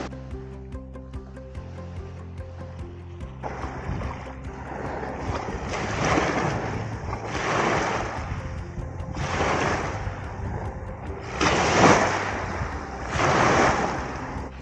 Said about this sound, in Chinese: 在这个岸边，这个水直接就会冲过来啊，浪打浪。